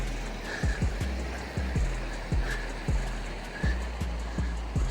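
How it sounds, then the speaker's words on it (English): A waterfall beside a hiking trail to Heather Lake gives a steady broad rushing hiss in the background, overlaid by a regular series of nearby thudding footsteps. "Just come up to a waterfall here"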